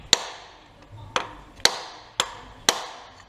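Five sharp hammer taps on engine parts during a timing belt kit replacement on a Dacia MCV 1.5 dCi 70 hp, evenly spaced about half a second to a second apart, close and crisp.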